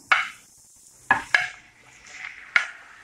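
Vegetables dropped into a hot pan, giving a few sharp sizzling bursts with brief utensil clatter and stirring scrapes between them, close by and without speech.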